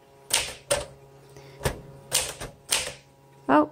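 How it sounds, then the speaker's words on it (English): Keys strike on a 1961 Smith Corona Sterling 5A manual typewriter in a slow, uneven series of sharp clacks, about six separate strokes with gaps between them, close up, followed by a brief voice at the end. "let's go ahead and do some typing"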